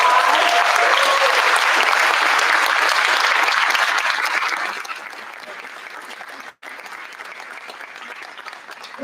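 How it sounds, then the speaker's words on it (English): An audience at a school kindergarten concert gives the kindergarten teachers a loud, dense round of applause that holds steady, then thins and fades to a scattered patter after about four and a half seconds. "Can we give our teachers a huge round of applause?"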